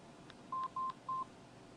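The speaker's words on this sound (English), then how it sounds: "For example, we can type J here, and you'll automatically see John Doe" Three short keypad beeps from a T349 desk phone, evenly spaced tones at close range over a faint steady hiss, with no talking.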